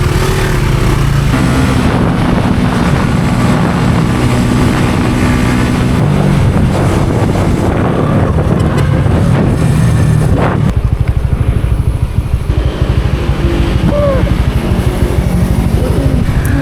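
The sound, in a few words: Yamaha Mio motorcycle riding at night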